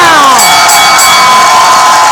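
A studio crowd cheers and whoops loudly before a Schmoedown game show round, a dense sustained roar of voices with shouts rising over it.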